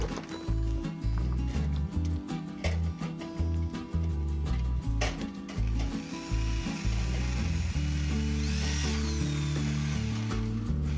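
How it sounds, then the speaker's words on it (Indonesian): A power drill runs loudly and close, its motor whining in sustained bursts with brief stops and changes in pitch as it bites into a metal canopy post. "Kita bor depan dan belakangnya juga."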